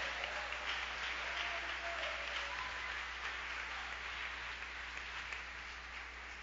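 Steady congregational clapping fills a church vigil service, a dense, sustained wash of many hands that holds at an even level throughout with no speech over it.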